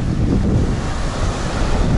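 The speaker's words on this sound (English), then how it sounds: "it's totally windy" Strong wind buffets the microphone in heavy gusts at the harbor of Monemvasia, Greece, with a roar of surf or water churning underneath.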